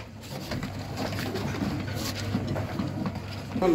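Several young blue-eyed pigeons coo in low, throaty rumbles close by, overlapping continuously, with faint fluttering and shuffling in the background.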